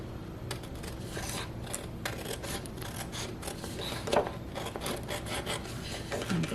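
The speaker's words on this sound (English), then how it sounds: "I'm going to just cut me a thin little strip." Large scissors snip along a thin strip of paper cut from the long side of a sheet for paper daisy flowers, making soft rubbing, rasping strokes close by with one sharper tick near the end.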